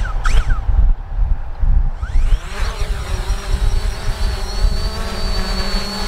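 A Fimi X8 SE drone spins up for an automatic takeoff outdoors, its rotors climbing into a loud, steady high-pitched whine with buzzing harmonics that holds close by throughout.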